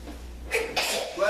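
A single sneeze bursts out suddenly during a tabletop role-playing game session, close and fairly loud, and the talk around the table carries on right after it.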